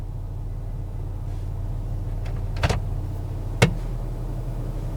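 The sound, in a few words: Chrysler car engine idling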